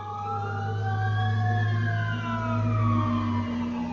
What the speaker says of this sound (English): Hear those sirens, guys? They're going right down my road.